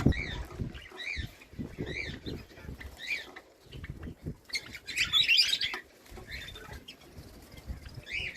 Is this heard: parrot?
yes